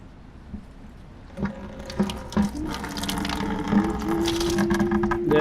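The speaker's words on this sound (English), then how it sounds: "We're gonna unscrew this plug over here and drain all the antifreeze out." Antifreeze drains from the radiator of a Nissan Xterra, starting as a few trickles and scraping knocks and then building into a steady, close splashing stream that pours on without a break.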